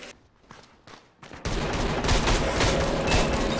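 M14 EBR semi-automatic rifle fire in the online shooter Metro Conflict, a few separate shots at first and then a dense, fast burst of continuous gunfire that stays loud and close until the end.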